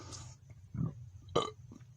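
A couple of short, low burps come after a brief ration taste test, the second one louder and followed by a faint breathy tail, over a quiet background hum.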